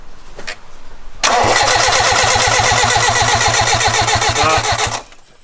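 A turbocharged Mitsubishi Lancer 4G15 engine cranks on its first start with a rapid, even chugging rhythm for several seconds, loud and close, without catching, then stops abruptly.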